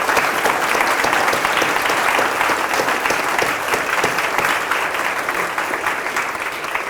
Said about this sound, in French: Alors, on va applaudir.